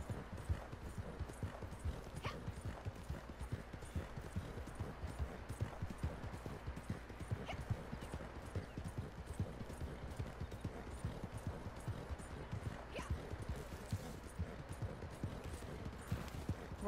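Horse hooves gallop in a steady, continuous clip-clop inside a video game, with sharp, busy hoofbeats running the whole time and occasional faint sounds layered on top.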